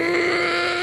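A drawn-out, low groaning yawn, loud and close, holding a steady voiced tone for just under a second.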